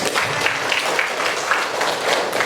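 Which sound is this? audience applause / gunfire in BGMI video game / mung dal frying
audience applause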